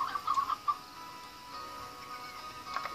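Short clucks from a rock chicken in a video game near the start, a few quick bursts, then quieter background with faint ticking sounds.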